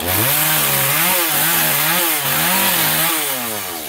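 A GZ4350 chainsaw cuts through a big eucalyptus tree, the engine loud and close, its pitch rising and sagging repeatedly under load without pause.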